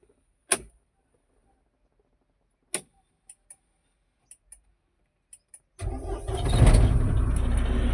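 A Mahindra Thar engine starts after a few sharp clicks and taps, cranking and catching into a loud, steady idle up close, with no talking.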